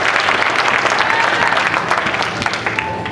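A church congregation at a French-language conference claps loudly and continuously in a dense wave of applause, with a few voices mixed in.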